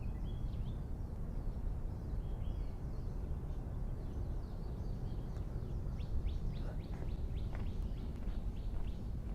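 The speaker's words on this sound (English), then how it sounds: "You can hear the birds." Birds chirp and tweet in quick repeated calls over a steady, hissing outdoor background noise on a smoggy hiking trail, faint and distant.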